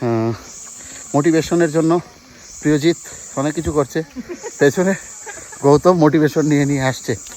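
Crickets chirp in a steady high-pitched drone through a tropical rainforest in Assam in the late afternoon, continuous behind close voices talking throughout.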